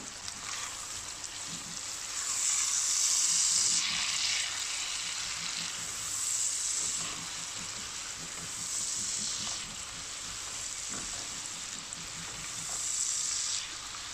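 Chili flakes, black pepper and salt sizzle and fry together in a hot pan, a steady crackling hiss that swells and eases as they are stirred, close and continuous.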